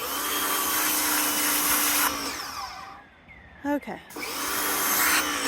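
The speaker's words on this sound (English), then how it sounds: "let me use the pressure washer, and as you can see, it is taking the paint right off" A pressure washer strips paint off chairs with a loud, steady hissing spray that cuts out briefly midway and then resumes, and a voice speaks once during the pause.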